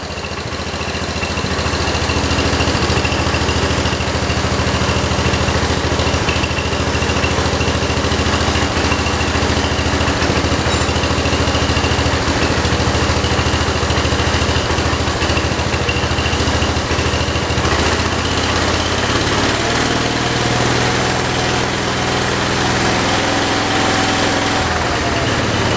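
A 1968 Kohler engine on a 112 garden tractor idles steadily and loudly throughout, a continuous low mechanical drone with no talk.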